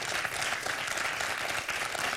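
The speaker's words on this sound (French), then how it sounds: "Je vous applaudis tous les trois, c'est magnifique." Steady, dense applause from a studio audience fills a French TV quiz show, Questions pour un Champion, a moderately loud sustained clapping with no talk.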